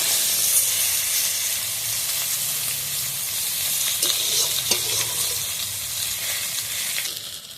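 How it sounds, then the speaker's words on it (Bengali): Cut eggplant lightly frying in a pan of hot oil: a continuous close, hissy sizzle with soft stirring scrapes and a few sharper clicks from the spatula, no voices. "ওই তেলের মধ্যে দিয়ে দেবো আমি কেটে রাখা বেগুন বেগুনটা আমি একটু হালকা করে ভালোভাবে ভেজে নেবো"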